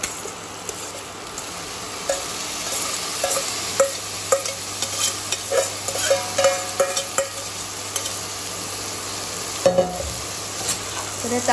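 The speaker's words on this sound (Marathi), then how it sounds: "तर यात आपण हे परतून घेऊया।" Smashed goat blood stir-fried with chutney in a pan for a Kolhapur-style mutton blood fry, giving a steady sizzle broken by repeated scraping and stirring strokes, close and fairly loud, with no talk.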